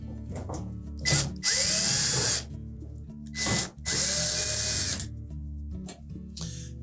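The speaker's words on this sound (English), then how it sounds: "we'll remove the screws across the top" A power drill backs screws out of the top panel of a Samsung dryer, two close whirring bursts of about a second each, separated by short pauses and clicks, with a steady low hum underneath.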